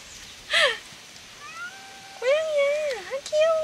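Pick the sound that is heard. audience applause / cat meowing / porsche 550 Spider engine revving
cat meowing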